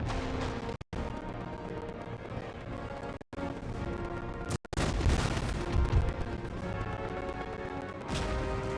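Musket volleys and battle gunfire from Total War: Empire, a dense continuous roar of shots and booms over game music, with a few brief sharp cutouts and no clear talk.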